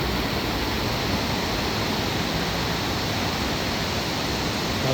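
A waterfall at Wat Ta Ngoi gives a loud, dense, steady rush of falling water, unbroken throughout.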